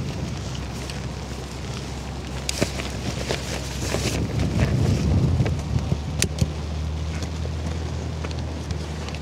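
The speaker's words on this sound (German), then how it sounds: "Das Gute ist, der Wind kommt direkt von hinten." Wind gusts outdoors beside the Elbe river, where container ships pass. A broad, steady roar buffets the microphone, with irregular louder bursts and a few sharp knocks.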